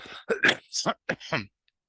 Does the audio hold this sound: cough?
yes